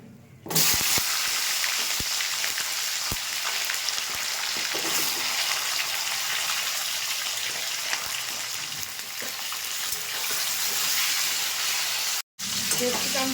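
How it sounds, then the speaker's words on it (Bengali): Capsicum fries in hot oil left in a pan after frying eggs, making a loud, continuous close-up sizzle with scattered stirring clicks, which stops abruptly for a moment near the end. "এই তেলে ক্যাপসিকামটা ভেজে নেব।"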